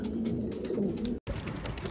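Young racing pigeons coo in a loft, a steady, low, murmuring stream of soft calls close by with a brief break near the end.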